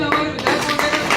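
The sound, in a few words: audience clapping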